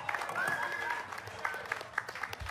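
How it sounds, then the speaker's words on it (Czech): Steady clapping from an audience at a press conference carries on throughout, with voices and shouts mixed over it. "Zatleskejme mýmu mistrovi, prosím všechny!"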